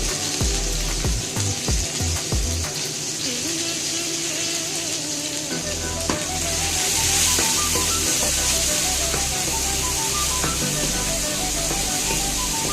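Chopped onion and green chili drop into hot oil with browned garlic while spinach curry is cooked, giving a steady broadband sizzle and crackle throughout, close and fairly loud, with occasional utensil knocks and a low background hum.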